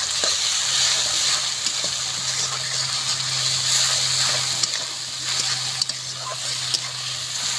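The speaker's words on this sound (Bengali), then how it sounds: "আদা রসুন বাটা সুন্দর করে কষিয়ে নেব।" Ginger-garlic paste sautés in a pan, a loud, continuous sizzle with a low steady hum beneath and a few sharp clicks of stirring near the end, with no voices.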